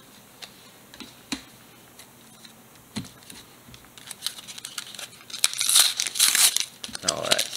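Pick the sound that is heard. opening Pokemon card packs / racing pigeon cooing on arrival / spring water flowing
opening Pokemon card packs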